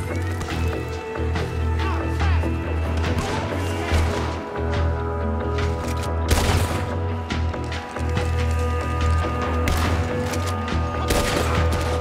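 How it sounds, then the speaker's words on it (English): A gunfire shootout in the game Red Dead Redemption 2, with a rapid mix of sharp shots, booms and cracks over a steady low rumble, dense and loud throughout. "Shooting."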